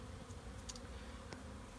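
Honey bees fly at the entrance of a nuc hive in winter, making a steady, continuous buzzing drone with a few louder individual bees passing close by.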